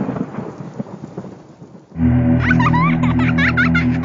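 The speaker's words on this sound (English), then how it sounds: "after you get struck by lightning, there's thunder" A loud thunderclap rumbles in over steady rain as a sound effect in a Grand Theft Auto: Vice City radio advert for the Maibatsu Thunder, building sharply and sustaining with dense crackle after a quieter opening.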